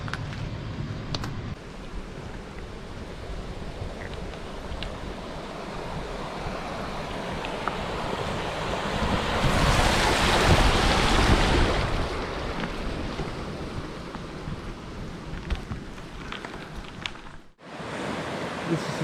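A bicycle fords a mountain stream on an overnight bikepacking trip; a rushing splash of water swells in the middle and then fades, set against steady outdoor wind noise.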